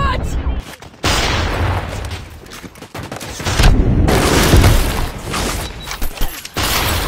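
Gunfire in a mobile battle-royale shooter game, bursts of shots and booms cutting in and out over a dense, loud mix, with players talking throughout.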